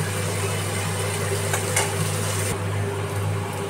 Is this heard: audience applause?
no